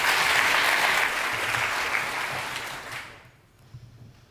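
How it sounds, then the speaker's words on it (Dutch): Warm audience applause at a literary reading event, steady dense clapping for about three seconds that then quickly fades away. "Geef een hartelijk applaus, Vee van Kerkvoorde."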